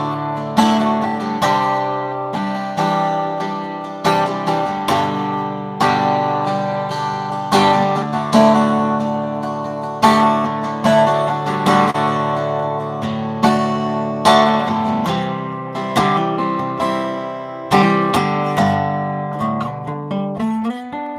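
A guitar strums a steady, rhythmic chord progression, with regular accented strokes that ring out clearly and close over about twenty seconds, with no voice.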